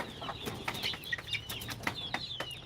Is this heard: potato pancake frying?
no